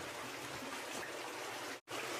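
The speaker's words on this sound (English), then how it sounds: "you will begin to hear the sound of moving water" Water of a stream flowing through the entrance passage of Crystal Cave rushes in a steady, full hiss nearby, briefly cut to silence for a moment before resuming.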